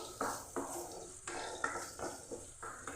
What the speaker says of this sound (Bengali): এবার সিমের সঙ্গে খুব ভালো করে 2 মিনিট এভাবে ভেজে নিচ্ছি